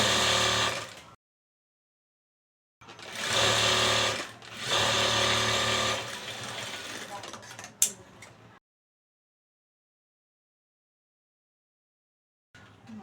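Sewing machine stitching a four-tuck blouse, running in two bursts of steady whirring separated by short pauses, then stopping with a click and silence before a brief restart at the end.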